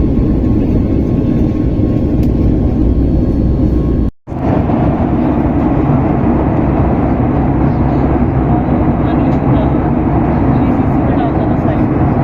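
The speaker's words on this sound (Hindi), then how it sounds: "आप जेट इंजन को देखते हो ये घूम रहा है" Jet airliner engine roaring steadily in the cabin during a flight from Delhi to Hyderabad, a loud, even broadband drone that cuts out for a split second, then resumes unchanged.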